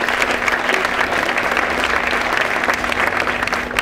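Steady applause from a crowd at a town funfair opening ceremony, the Daun Kirmes, continuous and fairly loud across the whole stretch with no voices over it.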